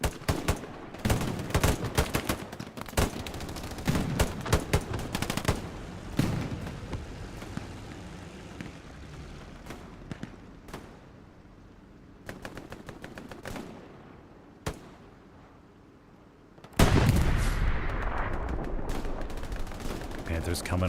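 Dense gunfire from the Hell Let Loose video game's Omaha Beach map: rapid rifle and machine-gun bursts, sharp cracks and heavy thumping blasts, including what sounds like rocket impacts. A loud explosive roar arrives late, with occasional voices underneath.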